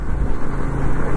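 A vehicle on a rough rural road with tyres skidding, heard as a loud, close, continuous low rumble of engine and road noise with no voices.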